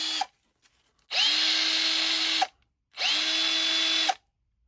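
A Parkside cordless drill runs in two loud, steady bursts of about a second and a half each, its motor whine rising at start-up and cutting off sharply as the brake stops it, with silence between.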